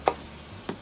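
Knife dicing onion on a cutting board while making braised short ribs, two crisp separate chops with a pause between, close and fairly quiet.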